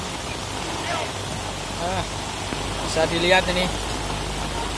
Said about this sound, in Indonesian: Hujannya semakin deras